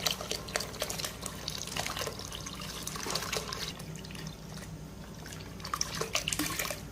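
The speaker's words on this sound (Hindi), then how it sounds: "डेढ़ लीटर दूध मैंने इसके अंदर शामिल कर दिया।" Full cream milk pours into a pot of cooked rice for kheer with a continuous soft liquid splashing and trickling, close and quiet, with a few small clinks on top.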